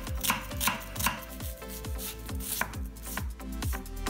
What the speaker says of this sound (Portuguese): Vou começar aqui picando uma cebola.